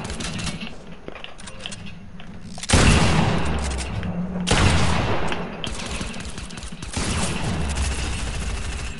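Rapid, loud gunfire bursts from a PS4 shooter game, with repeated sustained volleys and short pauses between them, close and dominant with little talk.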